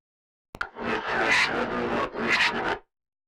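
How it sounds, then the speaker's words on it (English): A reversed vocal swells in as a transition effect in the outro of the mix, two smeared, breathy rising surges that build and then cut off abruptly, loud and alone. "this vocal that I reversed and then put here"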